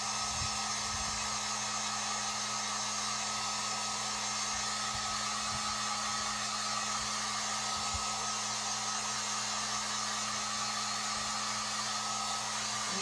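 A hair dryer blows steadily on chalk paste over a stencil, a continuous even whirring rush that stays constant throughout with no other sounds.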